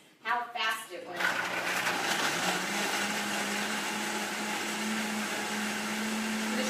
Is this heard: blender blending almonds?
yes